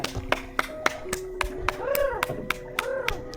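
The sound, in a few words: hand clapping to make fireflies light up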